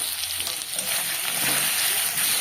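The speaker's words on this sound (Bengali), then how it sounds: "আলুটাকে একটু ভেজে নেব প্রথমে।" Potatoes frying in a pan with salt and turmeric, a steady close hiss and sizzle with faint stirring scrapes, no voice over it.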